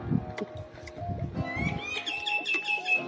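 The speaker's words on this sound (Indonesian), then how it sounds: "Tuh burungnya, Dek." Birds chirp and coo at a holiday resort on Bintan Island, with repeated close tweets and a rising whistled call over low background murmur and rustling.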